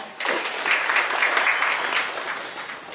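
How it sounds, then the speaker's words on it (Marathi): Audience applause at an awards ceremony in Chiplun honouring women's achievements, a steady sustained crowd clapping lasting nearly three seconds, moderately loud and even throughout, with no talking over it. "त्यासाठी खरोखर सगळ्यांनी एकदा टाळ्या"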